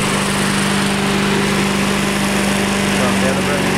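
A lawn mower that is for sale runs close by with a steady, loud engine hum and a regular low putter, and a voice sounds briefly over the motor.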